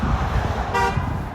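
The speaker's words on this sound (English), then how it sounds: "Was that guy honking at me?" A single short car horn toot from passing traffic on Marlee Avenue in Toronto, loud and close against steady road noise.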